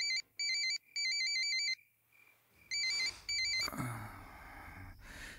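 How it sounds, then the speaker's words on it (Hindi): A telephone ringtone goes off at night, a bright electronic trill in repeated bursts with short gaps, followed by a brief rustle and a gasp-like breath. "इतनी रात में किसका फोन है?"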